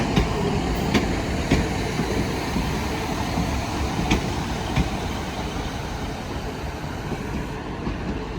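A train at Sheffield station, on the Midland Main Line, fills the platform with a loud, steady rumble, with intermittent clanks and wheel clicks as the cars roll by.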